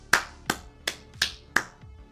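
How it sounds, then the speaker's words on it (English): Five sharp hand claps spaced about a third of a second apart ring out clearly and alone, close by, as a small round of applause for participants in an online cosplay and art community event. "Applause to all the people who participated"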